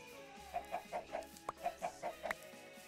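Chickens in the Minecraft video game cluck in a quick series of about ten short, evenly spaced calls, quiet and clean with no talk or other sounds.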